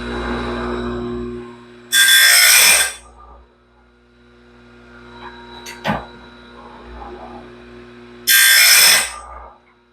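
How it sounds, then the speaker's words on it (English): A grinder sharpens the teeth of a DIY sawmill band blade, making two loud, harsh bursts of a second or so each, separated by quieter mechanical hum and a brief click. "all I'm doing, like I said, is I'm just sharpening the teeth."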